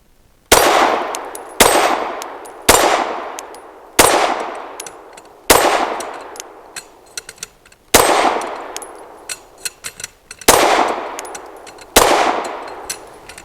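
Eight loud, close pistol shots from a PSA Dagger Micro firing Bellum 124 grain rounds, each a sharp crack with a ringing decay, spaced about one to two seconds apart with a longer pause near the middle.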